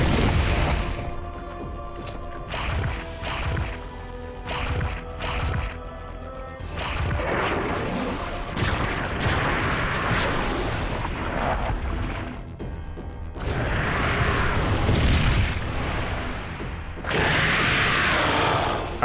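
Grenade rounds explode in Resident Evil 3: Nemesis, a dense run of loud booms and crashes stacked over a constant roar of game noise, with short gaps between bursts.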